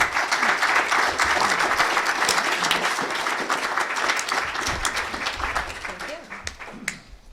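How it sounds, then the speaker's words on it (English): An audience at a panel on Holocaust survivors' mental well-being applauds, a loud, dense, steady round of clapping that holds for several seconds before thinning out toward the end. "we owe them one more round of applause"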